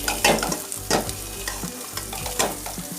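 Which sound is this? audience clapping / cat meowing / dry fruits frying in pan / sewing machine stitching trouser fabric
dry fruits frying in pan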